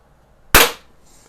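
A Webley Nemesis single-stroke pneumatic .177 target air pistol fires one sharp, close crack that decays quickly, set against near silence.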